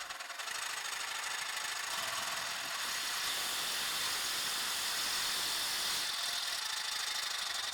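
A Dewalt Xtreme 12V Max subcompact reciprocating saw runs steadily at variable speed, giving a continuous high, hissing whine that swells slightly midway, heard close and alone.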